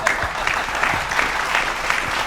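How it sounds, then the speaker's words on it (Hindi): An audience at a poetry recital claps together for a couple of seconds, a loud, steady, rhythmic burst of applause with no talking. "तो एक बार बता दो ताली बजा के"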